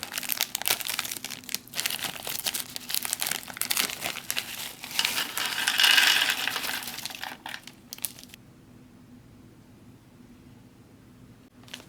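MRE snack packets of sweet and salty peanuts and trail mix being torn open and handled, giving close, continuous plastic crinkling and rustling that builds to a louder tear before settling into quieter handling.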